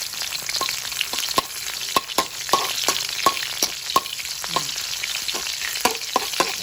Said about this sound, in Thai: เจียวกระเทียมให้เหลืองก่อน